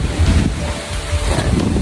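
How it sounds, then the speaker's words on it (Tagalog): Strong wind buffets the microphone in heavy, uneven gusts, a loud rumbling roar with no voices. "Grabe yung hangin"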